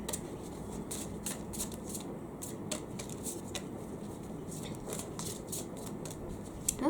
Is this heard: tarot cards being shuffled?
yes